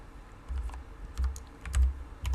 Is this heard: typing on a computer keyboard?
yes